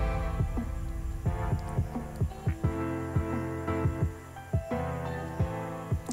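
A homemade electric screwdriver powered by a 12 volt battery runs on test, giving a faint low motor hum broken by repeated soft thumping pulses in an uneven rhythm.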